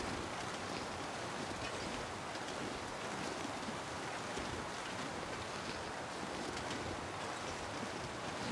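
Wind roars steadily through a snowy wilderness in the survival video game The Long Dark, a loud, continuous broadband howl with no talk over it.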